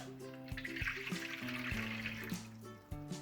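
Lukewarm water poured into a container for flatbread dough, a continuous close pouring and splashing with soft tonal ringing and a few sharper knocks of the vessel.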